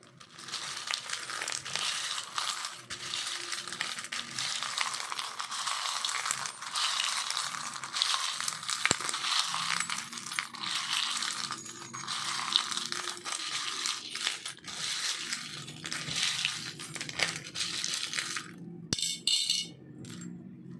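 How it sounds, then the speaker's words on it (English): Continuous metallic crinkling and clinking of small charms being shuffled, steady and close, with brief sharper clicks near the end. "this is going to be a little loud and noisy if I have to shuffle the charm"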